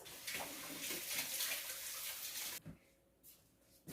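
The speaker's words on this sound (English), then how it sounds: "Wash our hands." A kitchen tap pours water while hands are washed after handling flour for biscuits, a close rushing splash that cuts off partway through, followed by faint drips and small knocks.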